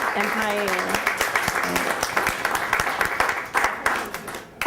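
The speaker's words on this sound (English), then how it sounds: "we give another round of applause for Obvious, Will, Sales, and Payne" Audience applause at a poetry reading at the Lower Eastside Girls Club, a steady dense wash of clapping from a room of people that runs the whole stretch at fairly loud level and thins briefly near the end.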